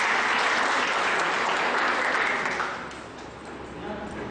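A training-session audience gives a round of dense, steady applause that fills the room, loud at first and then easing off slightly toward the end.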